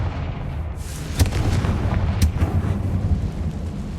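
Booming blasts from the Confringo fire spell in Hogwarts Legacy, two sharp explosive cracks about a second apart over a heavy, rumbling low roar, loud and close with no talking.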